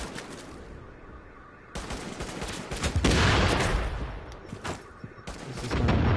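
Enemy grenadier in a Tom Clancy shooter game lobbing grenades in rapid succession, loud booming blasts and crackling gunfire bursts stacking up close, with rumbling explosions swelling toward the end.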